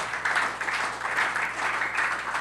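A church congregation applauds with sustained, even clapping that rises and swells in waves, the sound of a full room clapping together.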